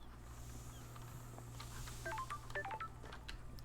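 In the video game Paradise Killer, a phone gives out a quick run of short electronic beeps in a rising and falling pattern over a low steady hum, fairly faint.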